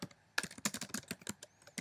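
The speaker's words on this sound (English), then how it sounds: "So I would keep on typing until I had a full story" Fast typing on a computer keyboard, a close, quiet series of irregular clicking keystrokes with brief pauses, with no voices.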